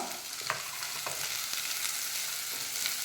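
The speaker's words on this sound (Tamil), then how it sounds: "ஆனியன் நல்லா வதங்கட்டும்." Steady sizzling of onions sautéing in a pan, with occasional soft stirring scrapes, continuous and close.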